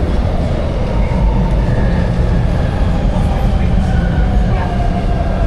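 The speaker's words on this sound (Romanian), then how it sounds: "Suntem la metrou." A metro train in Shanghai rumbles along the track in a loud, steady roar that fills the whole stretch, with no clear breaks or separate clacks.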